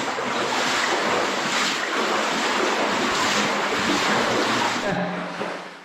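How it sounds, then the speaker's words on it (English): Water lapping in the flooded workings of an abandoned lead mine, Rampgill Mine at Nenthead, heard as a steady, loud, continuous wash of broadband noise that eases off in the final second. "I think the bank was just water lapping down there"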